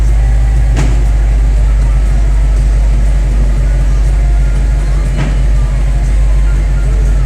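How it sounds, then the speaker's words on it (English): A wrecked 2017 Dodge Charger Hellcat under rebuild idles with a steady, loud, low rumble that never changes pitch, with two faint clicks on top. "Car sounds good. It's not making any weird noises."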